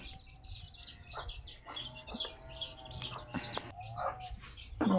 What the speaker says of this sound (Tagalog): Na po dani manok.